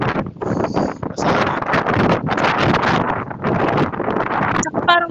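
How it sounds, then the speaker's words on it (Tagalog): Strong wind buffets the microphone with rough gusty rumble, while a person talks over it. "Ang lamig, lakas ng hangin."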